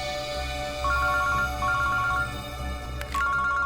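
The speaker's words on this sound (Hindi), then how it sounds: "अभिजीत का फोन है।" A telephone rings with a repeated electronic ringtone in bursts, loud and close, set against steady background music in a CID crime drama scene.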